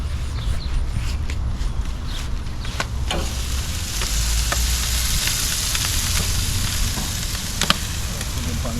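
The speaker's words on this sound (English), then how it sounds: "So now I put him on the grill." Jerk pork sizzles on a backyard grill in a steady close hiss, with scattered sharp pops and clicks of handling throughout.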